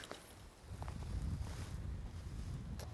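Wind gusting outdoors on a Labrador lakeshore during fly fishing for char, a steady broadband rush with low rumbling buffets against the microphone, loud throughout and no voices.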